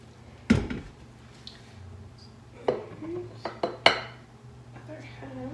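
Dinner roll dough ingredients stirred together in a bowl for holiday rolls, heard as a few sharp clinks and knocks of a utensil against the bowl spread across the span, with quieter scraping in between.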